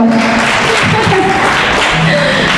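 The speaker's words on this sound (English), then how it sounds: "a round of applause for Mr. Jame" Applause from an audience greeting a speaker at an African Nations Quiz held at the Gambia college in Brikama, a steady dense clatter of clapping hands filling the hall with faint voices mixed in.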